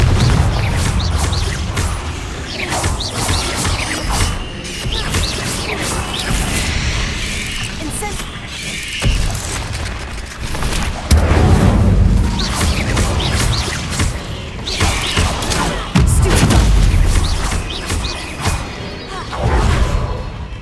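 Confringo spell blasts in Hogwarts Legacy, fought against a many-legged foe: repeated booms, crashes and whooshes in a dense, loud combat mix with voices in the background.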